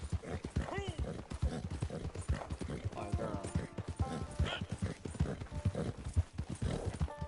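Horse hooves clip-clop at a steady walking pace in Red Dead Redemption 2, set against game ambience and music while someone talks over them throughout.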